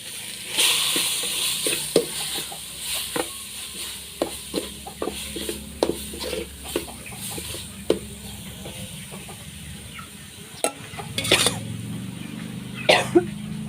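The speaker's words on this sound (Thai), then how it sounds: "ผัดค่ะ ผัดให้หอม" Pounded curry paste is stir-fried in pork fat, with a steady sizzle under irregular clicks and scrapes of a utensil against the pan.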